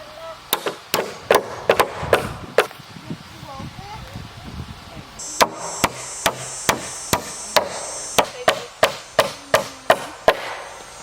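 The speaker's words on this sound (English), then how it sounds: "time to start hammering the floor together" Hammer blows on wooden floor joists as an off-grid cabin floor is built, a rapid series of sharp, loud wooden knocks in bursts with short pauses, plus some rustling and handling between them.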